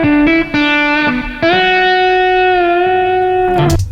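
Distorted electric guitar chords from a Fender Stratocaster ring out through a Comet amp, with a few sharp re-strikes early on and a long sustained, buzzing chord that fades into noise at the end.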